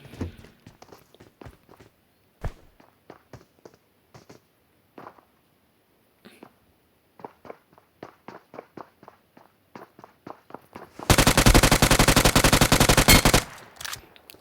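Automatic gunfire in the Fortnite video game, a dense sustained burst of about two seconds that follows a run of quiet footstep-like taps, with no talk over it.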